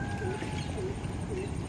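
An unidentified bird gives three short, faint calls at an even pace, set against a constant background hum.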